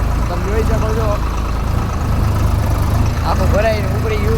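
A loaded tractor's engine chugs steadily at close range as it pulls away, a constant low drone with someone talking over it.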